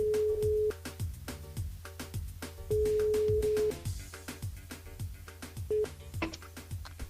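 A radio show phone line dialing out to call a listener back: a sequence of touch-tone beeps and longer steady tones, some held for about a second, with clicks and faint music in between.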